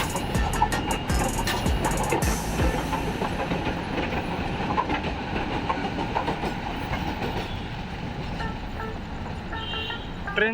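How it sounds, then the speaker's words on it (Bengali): Train passing along a railway line near Dhaka, a steady loud rumble with rhythmic clickety-clack of wheels over rail joints, sustained throughout without talk. "এই যে ট্রেন চলে আসছে"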